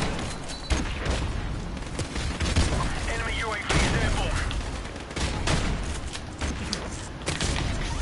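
Rapid bursts of grenade blasts and gunfire in Call of Duty 4, dense overlapping booms and cracks filling the whole stretch at steady loudness.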